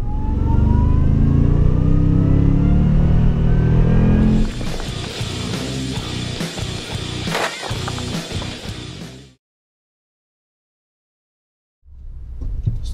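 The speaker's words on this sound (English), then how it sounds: "Start out with a little supercharge pull, of course." A supercharged Toyota Tundra Platinum Pro pickup accelerates hard, its engine note rising loud and steady for several seconds before cutting to silence, then briefly returning.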